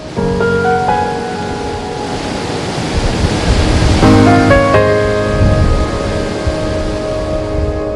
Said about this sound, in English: We turn it on cold, we fill it up to half an inch from the top.